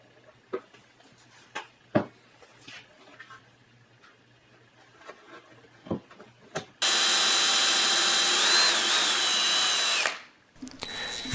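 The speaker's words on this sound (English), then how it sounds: "it's still a good idea to drill into the edge of the plywood" A power drill bores pilot holes into the edge of plywood for a wall-mounted tool storage cabinet, a loud steady whir of about three seconds cut off abruptly, preceded by scattered ticks and taps of handling the workpiece.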